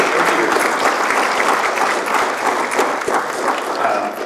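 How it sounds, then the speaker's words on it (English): An audience at a spring salon gives a warm round of applause for a couple, dense steady clapping throughout with a few voices underneath. "One more round of applause for the Stapletons."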